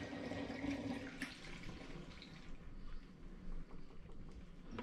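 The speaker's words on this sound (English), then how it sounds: "I'm just going to pour this straight back in now into the original demijohn where finings B is" Apple mead being poured from one vessel back into a glass demijohn holding finings, a steady close liquid gush and trickle that thins and sputters toward the end.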